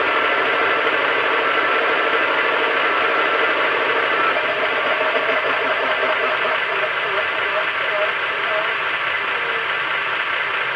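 An O gauge powered weed sprayer model train set from 2000 runs with its compressor, making a loud, steady, continuous hum and hiss close by.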